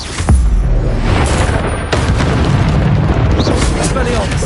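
Confringo spell blasts in Hogwarts Legacy: loud booming explosions, one sharp burst early and another around the middle, each followed by a rumbling roar that fills the rest of the clip, close and heavy.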